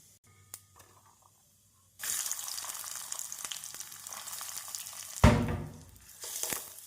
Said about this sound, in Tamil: ஜீரகம் பொரியவும் நறுக்கிய வெங்காயத்தை போடலாம்